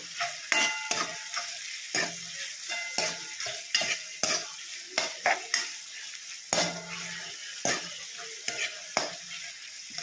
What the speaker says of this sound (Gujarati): ટામેટા સારી રીતે હલાવી તેમાં મિક્સ કરી દઈશું ડુંગળી સાથે.